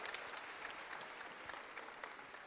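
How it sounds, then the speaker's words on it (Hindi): Audience applause for Dr. Subhash Tiwari at a civic gathering in Jabalpur, a steady dense wash of many hands clapping at moderate level, continuous with no talk over it. "तो जरा डॉक्टर सुभाष तिवारी जी के लिए तालियां"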